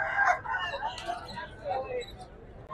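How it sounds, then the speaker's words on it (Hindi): Roosters fight at a Sunday bird market, with a loud crow and agitated clucking and squawks up close over a murmur of crowd noise. "ये आप देख रहे हैं यहाँ पर जो है वो मुर्गे लड़ाए जा रहे हैं, फड़काए जा रहे हैं।"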